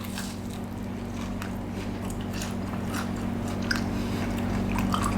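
Crunchy breaded Malaysian snack being bitten and chewed, soft repeated crunches and squishy chews close up over a steady low hum, with no talk.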